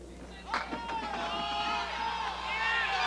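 A crowd erupts in cheers and whoops after a shot in a candlepin bowling match, a brief sharp burst followed by sustained cheering and clapping.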